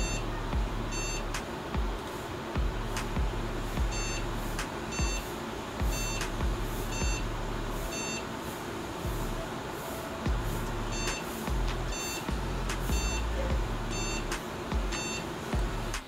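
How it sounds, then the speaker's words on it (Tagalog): Short electronic beeps from an HP Compaq Elite 8300 Ultra Slim desktop's POST error code repeat in a steady pattern over a constant hum of fan noise, with no voices; the computer turns on but shows no display. "Yung tunog na narinig natin, ang tawag doon, beep error."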